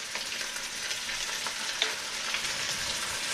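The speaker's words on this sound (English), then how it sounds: "I'm going to saute that really lightly, because it's going to cook some more in the oven." Crab, shrimp and scallops sauté with onions and celery in a pan, giving a steady close sizzle with small crackles and a few stirring clicks, no voices.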